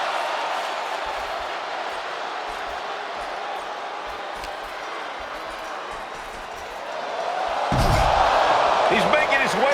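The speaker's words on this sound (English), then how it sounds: "And listen to this capacity crowd." A capacity arena crowd in the WWE 2K26 wrestling game fills the space with a constant roar that swells louder near the end, with scattered thuds and sharp impacts.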